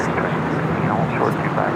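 An ANA airliner at LAX gives a brief, continuous broadband roar, a steady rushing jet rumble with wind-like noise that stays loud and unchanging throughout.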